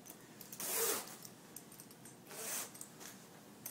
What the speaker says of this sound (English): See, two-way zipper.